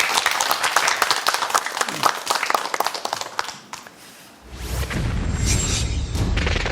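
A studio audience claps for a lecture on a televised educational program, dense clapping that fades out before a low boom and sustained rumble take over.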